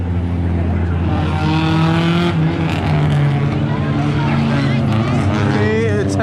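Small four-cylinder cars, among them a Honda and a Cobalt, rev and drive around a car meet track, engines whining and rising in pitch with tire noise as people talk loudly over them.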